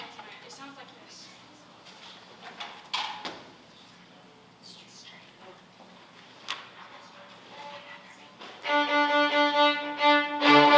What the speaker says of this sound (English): Miss Guidry made a rhythm called Taka Taka Stop Stop